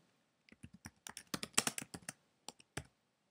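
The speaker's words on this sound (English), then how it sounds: "The thing I'm typing there is I'm actually hitting a tab key." Quick, light clicks of typing on a Mac computer keyboard, including tab key presses, an uneven burst of keystrokes close by in a quiet room.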